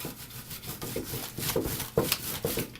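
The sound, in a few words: rolling pin crushing food in a zipper bag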